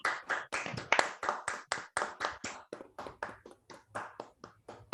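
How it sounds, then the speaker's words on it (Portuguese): Participants in an online seminar clap from their own microphones, a quick, uneven run of sharp claps that overlap and repeat steadily for several seconds, close and fairly loud, with no talking. "dê uma salva de palmas aí para você"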